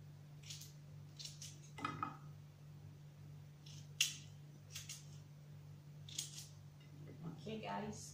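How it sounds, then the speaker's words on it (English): A knife dices carrots and potatoes on a cutting board while vegetables and mushrooms are prepared, giving sparse, sharp taps spaced irregularly over a steady low electrical hum. "I just have to dice it this way"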